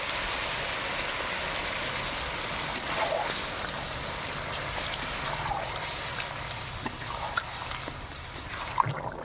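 Water goes into a pan of sautéed vegetables for a paneer hechor dish, a steady soft hiss and trickle with faint bubbling continuing throughout, no voices.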